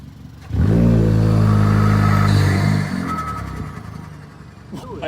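VW MK6 GLI with a big turbo revs hard from outside the car, a loud close engine roar rising sharply and holding for about two seconds before dropping back to a rumbling idle with a brief clatter.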